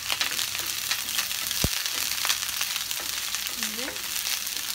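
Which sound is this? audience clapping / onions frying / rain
onions frying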